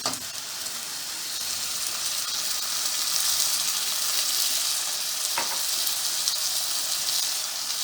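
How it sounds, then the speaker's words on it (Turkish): Orzo vermicelli and tomato sauce added to a pot of sautéed peppers for chicken pilaf set off a strong, continuous hissing sizzle, close and steady, with a brief stir in the middle. "Şimdi arpa şehriyemizi döküyorum. 2 su bardağı arpa şehriye. Bir su bardağı domates sosu."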